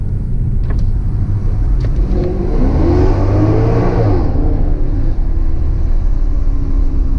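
A Maserati GranTurismo engine revs hard on a test drive, a loud continuous roar rising and falling in pitch near the middle, heard from close by with steady road and wind noise throughout.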